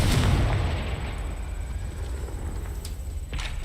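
The Confringo spell in Hogwarts Legacy sets off a deep, rumbling blast that swells loud at the start, then fades into a long, noisy roar with a few sharp pops near the end.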